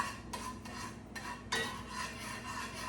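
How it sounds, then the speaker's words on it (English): A spoon scrapes and swirls around a pan as flour is stirred into melted butter for a roux, making soft, quiet rubbing strokes in short repeated passes. "It's just a matter of putting the flour in the butter. Put that in there, and then you have to stir it."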